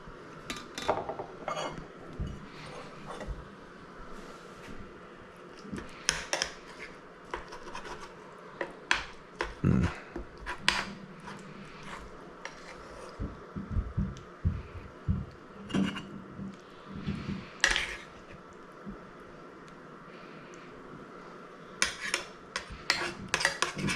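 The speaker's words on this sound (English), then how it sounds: "I'm going to use a spoon to kind of plate this, and I'll spoon some of those juices out around it as well." A spoon scrapes and clinks against a pan and plate while plating eggplant parm and spooning pan juices around it, with sporadic close metallic taps and soft rubbing over a quiet background.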